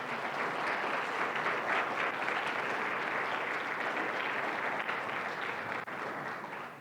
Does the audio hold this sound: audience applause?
yes